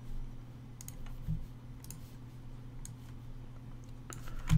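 A computer keyboard clicks sparsely and faintly as SQL commands are typed in, with a few scattered keystrokes over a steady low electrical hum.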